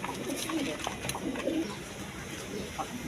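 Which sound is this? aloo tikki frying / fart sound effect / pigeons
pigeons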